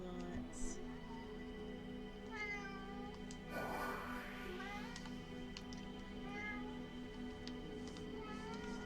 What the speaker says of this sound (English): My cat's yelling at me. She's yelling lots and lots.